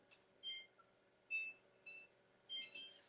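A kitchen oven timer beeps in short, thin electronic tones, four quick chirping bursts spaced irregularly, faint and close in a quiet room with no talking.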